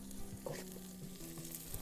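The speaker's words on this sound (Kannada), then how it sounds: "ಈಗ ಚೆನ್ನಾಗಿ ಫ್ರೈ ಮಾಡೋಣ" Onion and masala fry for village-style chicken liver fry, a soft steady sizzle with light stirring scrapes, faint and close, with no talking.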